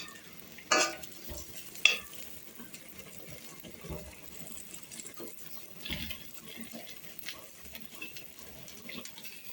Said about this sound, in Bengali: তো এই যে করলা ভাজা আমার হচ্ছে